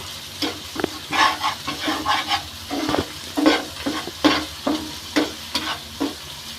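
Turmeric being stirred into a cashew and poppy seed masala for a Bengali bhola fish curry, with rhythmic scraping strokes of a spoon through thick paste over a soft sizzle, close and fairly loud.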